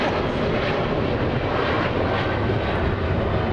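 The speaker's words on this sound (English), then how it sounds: "Big takeoff, China Airlines, Dynasty 5, flying back to Taipei." A China Airlines airliner takes off at Los Angeles International Airport, its engines making a loud, continuous broadband roar that holds steady without a break.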